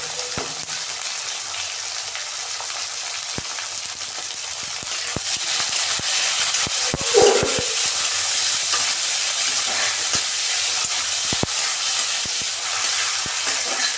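Cashews, garlic, ginger and tomatoes sizzle in a pan while being stirred. A steady frying hiss runs throughout, broken by scattered clicks and scrapes of the spatula, one louder clatter midway, and no speech.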